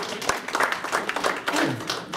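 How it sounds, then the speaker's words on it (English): An audience at a talk by Herb Silverman applauding: dense, steady clapping from many hands for a couple of seconds, fairly close and lively. "It feels so nice to be applauded for drinking."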